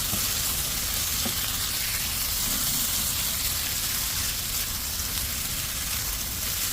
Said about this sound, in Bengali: দুই তিন মিনিট আমি এভাবে একটু ভাজবো